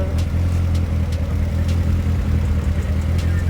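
A drift car's middle-mounted engine with a big turbo runs in a steady, loud, even drone with a slight whir, close by and alone.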